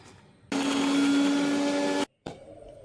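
Electric blender grinding ginger, garlic and green chillies into a paste, a loud steady whirring roar for about a second and a half that cuts off abruptly, then a brief restart.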